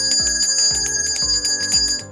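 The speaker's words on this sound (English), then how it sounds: "Close your eyes, touch the bell, one finger." A bell, touched with one finger during a cognitive test, rings out in a repeating patterned sequence of bright metallic tones, about four even cycles in two seconds, loud and close.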